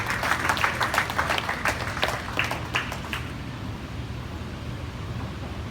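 An audience applauds at the opening ceremony of the 19th PTBA-Crown Pipes Open Championships, a moderate burst of clapping that thins out after about three seconds into a quiet room hum.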